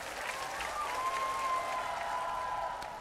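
Applause from a studio audience after a duet performance on a music show, steady and moderately loud throughout, with a sustained singing or synth tone running through the middle.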